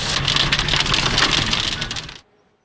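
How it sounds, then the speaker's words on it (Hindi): Heavy rain pours down steadily as a dense, loud hiss, then cuts off abruptly near the end, leaving near silence. "बारिश मजीद 24 घंटे होती रहेगी।"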